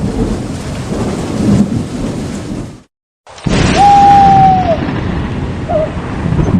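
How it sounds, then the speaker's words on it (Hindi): Heavy rain pours with booming thunder near an old mansion in an animated horror story, loud and continuous, cut by a brief silence before the storm resumes and a thin whistling tone rises above it. "बारिश तेज हो गई"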